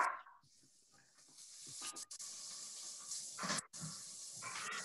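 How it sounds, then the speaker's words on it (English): Onion and peppers sizzle in a hot frying pan, a faint broad hiss that swells as they go in, with a few soft clatters and a short break partway. "If your pan's hot, we'll put in the onion and the peppers into the frying pan."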